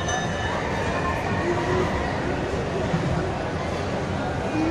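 A train rumbles past with a steady, broadband roar and faint metallic squeals, moderately loud and continuous, with people talking underneath.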